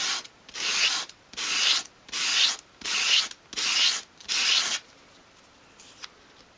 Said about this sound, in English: with your piece of sandpaper flat on your work surface, hold the piece at a 45-degree angle and sweep it towards you